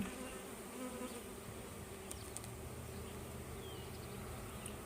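Honey bees from a big hive drone steadily during a full hive inspection, a dense continuous buzz with occasional louder passes of individual bees close by.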